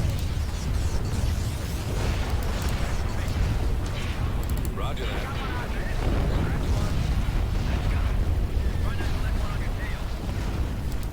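Explosions roar in a continuous, dense rumble of battle noise during a bomber run in the Star Wars Empire at War strategy game, with a brief radio voice over the din.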